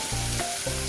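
Prawns frying in a spiced curry base give a steady, close sizzle with a brief hissing surge in the middle and no talk.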